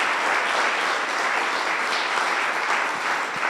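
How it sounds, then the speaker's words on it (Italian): Sustained applause from a conference audience thanking a professor, an even wash of many hands clapping with no talk over it. "possiamo ringraziare con un applauso il professore"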